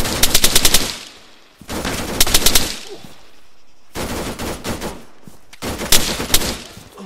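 Machine gun fire in the military shooter Arma 3, heard as four loud close bursts of rapid automatic shots separated by short pauses, with distant shots in the gaps.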